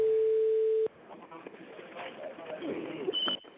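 Steady electronic telephone line tone on an intercepted phone call, loud and constant for just under a second, then cut off and followed by faint line noise and a brief high beep near the end.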